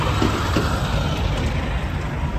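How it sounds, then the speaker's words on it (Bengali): A toy train rolls past at a crowded photo spot, a steady loud rumbling and clatter that fills the scene without a break and with no talk over it. "তার মাঝখানে টয় ট্রেন চলে এসেছে"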